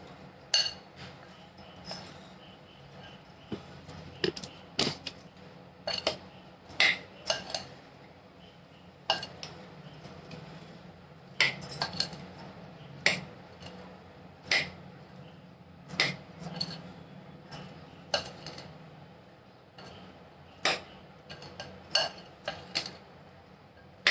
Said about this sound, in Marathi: आता मिक्स करून घेऊया छानपैकी असं सगळं कांदा टोमॅटो काकडीला सगळा मसाला कोट झाला पाहिजे